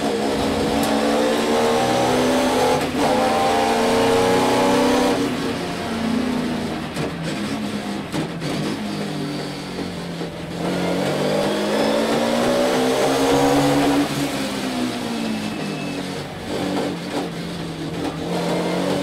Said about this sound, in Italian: Fare i traversi con un DTM